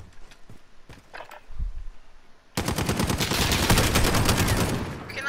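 Call of Duty gunfire: after a couple of seconds of scattered faint pops, a loud, sustained burst of rapid automatic fire runs continuously to the end.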